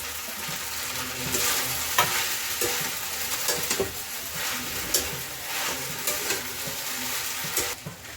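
Potatoes fry in a pan for sabudana khichdi, a continuous close sizzle broken by intermittent scraping stirs of a spoon.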